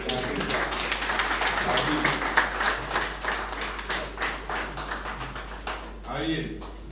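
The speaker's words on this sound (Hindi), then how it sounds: "उनके लिए तालियां बजाइए।" A live audience claps loudly in a steady, dense burst of applause for an elderly woman at a Sadbhavana Diwas gathering, the clapping thinning toward the end.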